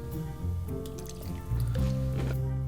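Chocolate milk is poured into a milk-fat filter, giving a close, steady liquid pour with dripping and splashing.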